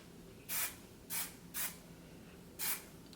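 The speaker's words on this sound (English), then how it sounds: "I'll get some more hairspray going." Hairspray aerosol misted onto hair while styling messy waves, four short hissing bursts spaced unevenly over a quiet room background.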